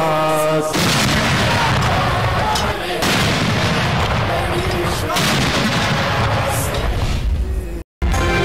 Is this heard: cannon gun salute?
yes